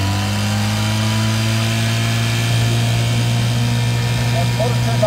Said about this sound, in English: the motor turned out well, it runs nice, very smooth, quiet.